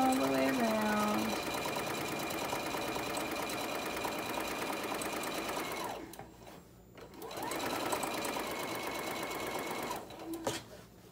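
A sewing machine runs steadily stitching a pillowcase seam along a 3/8 inch guide, a close rapid mechanical whir that briefly drops off and resumes, with a voice speaking over it.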